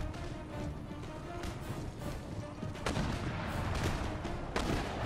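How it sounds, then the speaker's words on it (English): Mortars fire in the Empire Total War battle game, with dull booms and scattered blasts over a rumbling battlefield din. "Engage the Seminese mortars."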